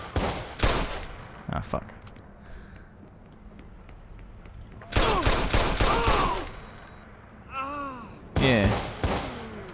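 Gunfire in the video game Watch Dogs on PS4 comes in several sharp bursts, one longer volley in the middle and more near the end, with a voice talking between them.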